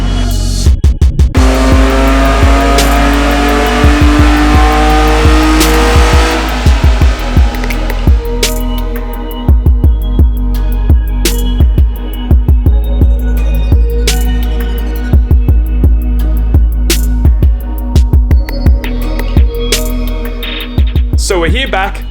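A V6 Toyota MR2 runs on a dyno with a loud, sustained engine drone and steady harmonic hum, punctuated by frequent sharp clicks and pops, while people talk over it.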